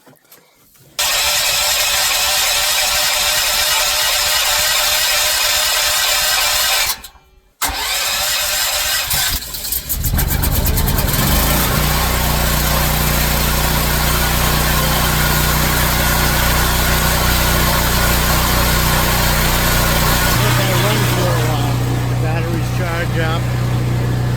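An engine in a shed cranks, cuts out briefly, then catches and runs loudly and steadily, its hum filling the enclosed space.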